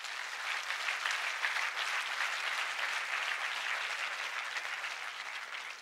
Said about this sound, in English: Can we have a clap for yourself?